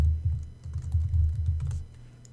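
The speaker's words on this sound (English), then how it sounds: "just type right in there" Rapid keystrokes on a computer keyboard, a steady run of close, light clicks over about two seconds with a brief pause near the end, no voices.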